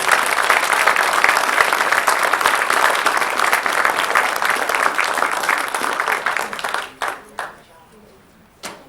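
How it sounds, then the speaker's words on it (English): Sustained applause from a crowd at a Caddo Parish public schools meeting honoring a parish teacher of the year nominee, April Carberry, loud and dense for about seven seconds before breaking into a few scattered claps and tapering off. "So one more round of applause for Ms."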